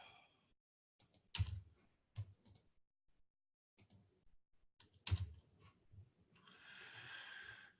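Keys tapped on a wireless computer keyboard: scattered sharp clicks in small bursts with pauses between, faint and close, ending in a brief hissy rustle.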